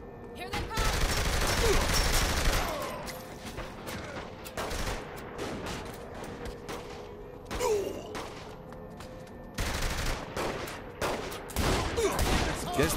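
Gunfire in the video game Saints Row The Third during an armory robbery: rapid bursts of automatic shots and scattered single cracks, loud and close, broken by short pauses, with game characters talking between volleys.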